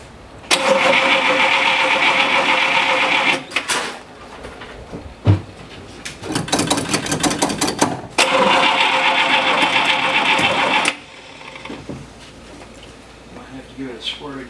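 An old car's starter cranks the engine in two long sustained bursts with a broken, sputtering attempt between them, the engine trying to fire after a distributor adjustment, loud and close, with talk in the quieter stretches.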